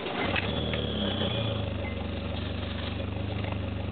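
A car driving away from work through Gatlinburg, with a steady low engine drone and road rumble heard from inside the cabin and no talk.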